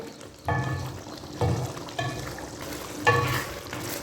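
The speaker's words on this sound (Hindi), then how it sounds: "अब इसको कीमे को मैं अच्छी तरह भूनती हूँ जब तक इसका घी निकलना शुरू ना हो जाए" Minced meat (keema) browning in a pan for aloo keema, with crackling sizzle and bursts of stirring at roughly one-second intervals, close and steady, no talk.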